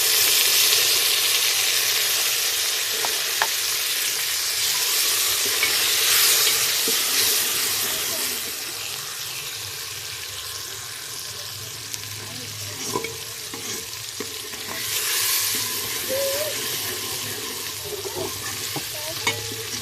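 Chopped tomatoes hit a pan of light-brown frying onions and are stirred in. A loud, dense sizzle settles into a quieter crackle, with scraping and clinking from the stirring.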